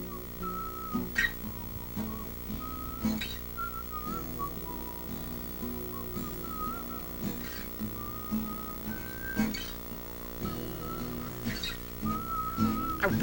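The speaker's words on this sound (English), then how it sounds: "I really like that little ditty you're whistling there" Someone whistles a little tune, a string of short, quiet melodic phrases with brief pauses between them over faint background hum.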